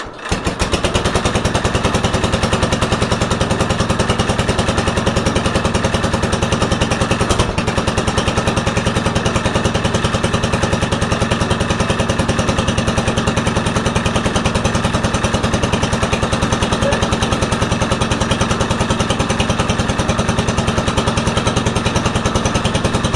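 Cub Cadet lawn tractor engine cold starting, a loud, steady, rattling mechanical roar that catches almost at once and keeps running without letup, close by.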